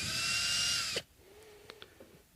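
An electric driver spins out screws from a MusicMan StingRay bass in one close, high whine lasting about a second, then stops, leaving faint clicks and handling noise.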